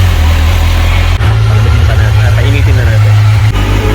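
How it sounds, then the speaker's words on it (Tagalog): A stock-exhaust Kawasaki Versys 1000 idles with a steady low thrum close by, while a person talks over it throughout. "Stock Versys 1000 exhaust."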